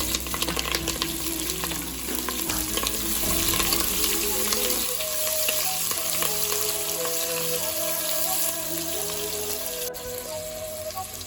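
Onions and green chillies fry with cloves and cardamom for coconut milk rice, a steady close sizzle throughout with occasional stirring scrapes and soft background music, no talking.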